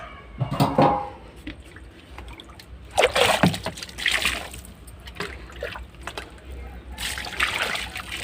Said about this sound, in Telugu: వాటర్ వేస్తాను ఇప్పుడు